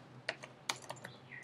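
Sparse, quiet keystrokes on a computer keyboard, a handful of separate clicks and taps spaced irregularly over a second and a half, close by in an otherwise still room.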